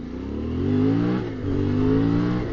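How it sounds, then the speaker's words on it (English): Motorcycle engine revving in two surges as the rear tire spins up on wet asphalt, a steady mid-pitched drone swelling and dipping briefly between bursts, close and fairly loud. "Like right there, even on just wet asphalt, it's spinning."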